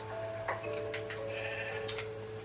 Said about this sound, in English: Oh, go kill the sheep.